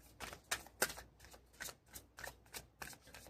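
Tarot cards being shuffled by hand, a steady run of soft riffling bursts, close and quiet, with no speech.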